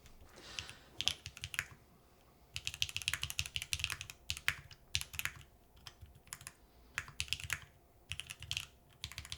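Rapid clacking keystrokes on a Tofu TKL mechanical keyboard, coming in bursts with short pauses between them, close and fairly loud with no talking.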